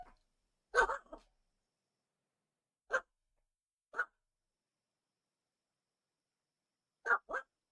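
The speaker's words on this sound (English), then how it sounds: "We interrupt this tense moment with puppy barks." A puppy gives a few short, sharp barks, a quick double yap, then two single barks spaced apart, and a final pair, close and clear against silence.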